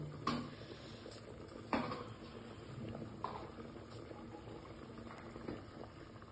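Mutton rassa curry bubbling in a pot, Ghati style, a low steady simmer with a few sharp clinks of a spoon or lid against metal, close and fairly quiet, no talk.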